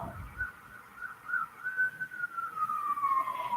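A distant wailing siren rises and falls in a slow sweep, faint under outdoor background noise.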